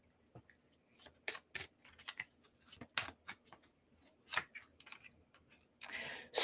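Tarot cards shuffled by hand at close range, a series of quick crisp riffles and taps in irregular bursts, with a louder burst near the end and no talk.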